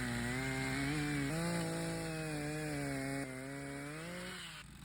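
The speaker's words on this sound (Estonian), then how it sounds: "Laasisin selle ära ja saagisin selle parajateks tükkideks." A chainsaw runs steadily as it cuts a fallen, resin-soaked pine log into pieces, its engine whine holding a constant pitch with slight dips as the chain bites, close and loud throughout, with no talk.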